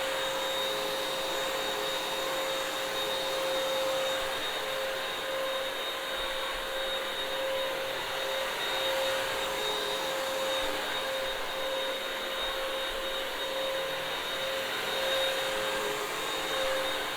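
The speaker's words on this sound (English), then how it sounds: "And then let's move it back and forth. And we'll press the trigger when we want to get it nice and wet to clean." Bissell CrossWave floor and area rug cleaner running on a dirty rug, a steady loud motor drone with a high whine, held close and unbroken throughout with no talking.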